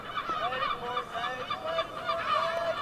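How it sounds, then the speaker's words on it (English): Gulls calling over a cricket ground during a county match, a steady stream of overlapping honking and squawking cries, moderately loud against a distant open-air background with no nearby talk. "Yeah, there are plenty of gulls up in the air at the moment."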